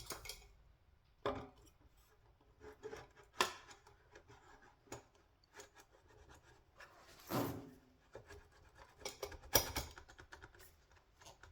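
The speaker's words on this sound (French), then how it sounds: "maintenant il ne reste plus qu'à reposer donc l'échappement" Exhaust being refitted on a 2025 BMW S1000R motorcycle, with scattered metallic clicks, taps and clinks of parts and tools, sparse and close in a quiet room.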